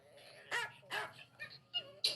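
A dog makes a series of short yips, whines and barks played back from a video, sounding thin and moderately loud in an irregular rhythm.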